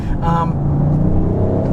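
The 2021 Audi RS7 with the optional Sport exhaust: a close, steady engine rumble from inside the car, with a brief voice heard near the start.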